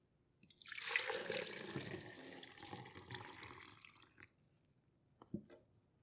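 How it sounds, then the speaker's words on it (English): Water is poured off into a beaker while ferrofluid is being made with rubbing alcohol, giving a close, steady splashing pour that tapers into trickles and a few drips. "into a beaker, I dumped off as much as I could."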